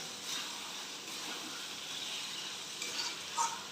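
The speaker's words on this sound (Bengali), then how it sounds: "মাংসটা একটু ভাজা ভাজা করে আমি চালটা দেবেন" Chicken pieces fry and sizzle in a pan while being stirred for chicken pulao, a faint, steady hiss with a few light scraping clinks near the end and no talking.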